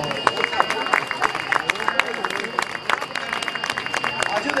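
Crowd applause at a jineteada rodeo in Argentina, scattered sharp claps from many hands over a busy outdoor murmur, with talk and crowd voices mixed underneath.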